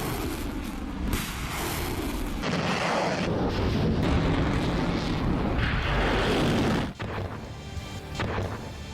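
Heavy artillery fire in wartime fighting around Kharkiv booms in a dense, continuous barrage of loud overlapping blasts and rumbling, with no speech over it.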